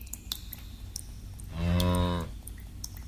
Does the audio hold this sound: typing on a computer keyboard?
no